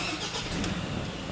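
A Ford Ranger engine cranks and catches in a brief, loud burst of mid-range engine noise close by.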